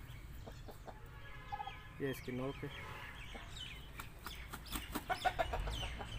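An eight-month-old Aseel rooster clucking in short, nasal bursts and a few louder squawking calls, close by, mixed with someone talking over it.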